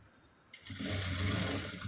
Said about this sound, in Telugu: దీనికి కూడా మూడు స్టిచ్చెస్ వేసుకుందాం